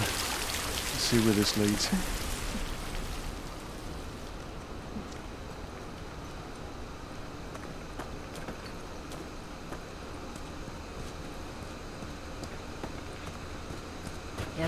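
Steady rain falls in The Last of Us video game, loud and close at first, then continuing as a softer wash, with brief speech over it.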